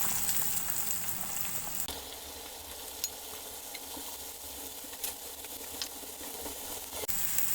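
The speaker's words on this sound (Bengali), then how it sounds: "তেলটা গরম হয়ে আসতে পরে এখন মাছগুলো দিয়ে দিচ্ছি" Small kachki fish fry in hot oil in a wok, giving a steady, fairly quiet crackling sizzle with occasional sharper pops and a few soft ticks from the pan, no voices over it.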